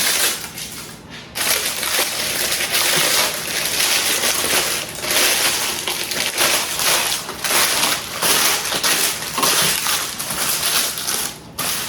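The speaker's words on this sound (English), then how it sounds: "If you crumble this up, it will take the shape of the pan easier." Parchment paper crumpled by hand in a home kitchen, giving a dense, continuous crackling and rustling that runs steadily for several seconds at close range, with a short pause near the start.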